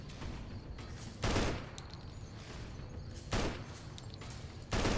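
Gunfire in the post-apocalyptic shooter Fallout 3 / New Vegas, three separate sharp bursts spaced a couple of seconds apart over quiet game ambience, moderately loud and close.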